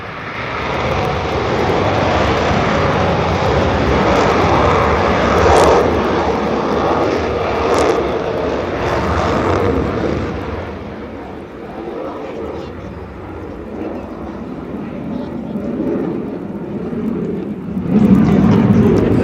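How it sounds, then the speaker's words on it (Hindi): A Rafale fighter jet takes off from the Ambala Indian Air Force base, a loud, continuous engine roar that holds steady and then swells again near the end, with a voice speaking over it. "जब टेक ऑफ इस समय विमान कर चुका है राफेल"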